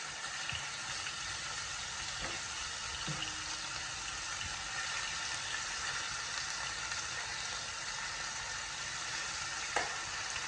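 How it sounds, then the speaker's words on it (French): Hot oil sizzling and crackling steadily as food fries in a pan, with a few faint clinks against the cookware. "mon huile est bien chaude. Nous allons pouvoir faire griller."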